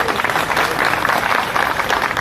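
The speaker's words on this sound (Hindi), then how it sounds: "ताली बजाओ।" Audience clapping steadily at a dock workers' union meeting in Karachi, a dense continuous burst of applause from a crowd, loud and close, short.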